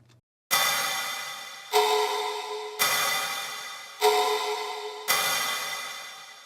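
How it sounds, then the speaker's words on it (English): Five heavily reverberant percussion hits land at an even pace in an electronic track, each striking loud and bright and then washing out in a long decaying tail layered over clap and snare. "Now on top of that, we have a percussion hit with a lot of reverb on it,"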